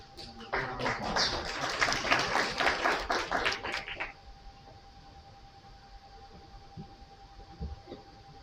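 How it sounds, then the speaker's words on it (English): Brief burst of audience applause, lively clapping for about three seconds that cuts off abruptly, followed by a quiet room with a faint steady tone. "Round of applause."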